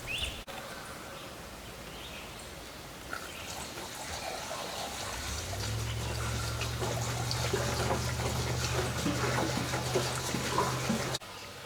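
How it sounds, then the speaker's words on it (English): Acid being poured into water while mixing a treatment solution for trees with red bark, a steady close trickle that grows fuller and more continuous partway through, then cuts off near the end. "So after you've added the acid, you add the water"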